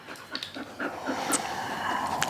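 A dog pants right up against a microphone, with quick, close, breathy huffs in an uneven rhythm and a faint whimpery edge on a few breaths.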